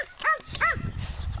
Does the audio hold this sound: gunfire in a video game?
no